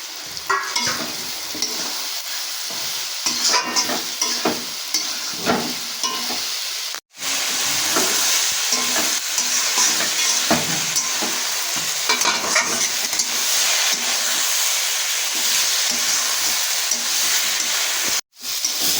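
Soya chunks stir-fried with potato, onion and spices in a pan, with a continuous loud sizzle and repeated scraping stirs, briefly cut off twice.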